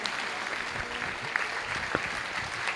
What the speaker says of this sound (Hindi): इन सभी कलाकारों का एक जोरदार तालियों से स्वागत कीजिए।